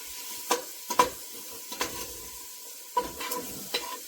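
Onions frying quietly in butter and leftover sausage fat for zuppa toscana, a soft low sizzle broken by several sharp spoon scrapes and knocks against the pot, close up.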